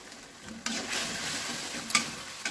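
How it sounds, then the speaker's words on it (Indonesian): A steady hiss of boiling sauce for a spicy bok choy stir-fry in a pan, with a spoon scraping and clinking against the pot a few times as cornstarch slurry is stirred in. "setelah mendidih kita larutkan dengan cairan tepung maizena guys"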